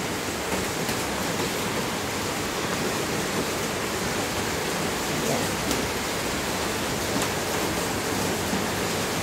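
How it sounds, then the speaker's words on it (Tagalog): Heavy morning rain pours in a dense, unbroken roar that stays steady throughout, with no voices. "Ayan, malakas po yung ulan."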